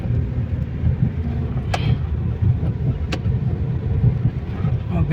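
Car idling and rolling off the ferry on arrival at Lombok, a low steady engine rumble with a couple of sharp clicks or knocks, and a voice speaking over it.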